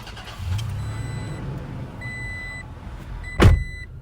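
A 2020 Toyota Tacoma TRD Off Road double cab with a V6 is push-button started: dashboard chimes ring, then a short, loud starter crank and engine catch near the end, close inside the cab.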